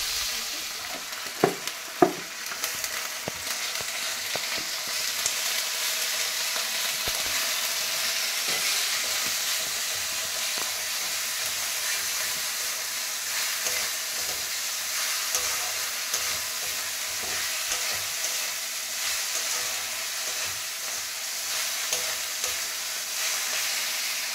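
Shrimp frying in a pan, topped with coconut pieces, give a steady, close hiss of sizzling oil for the whole stretch, with a few sharp utensil clanks near the start.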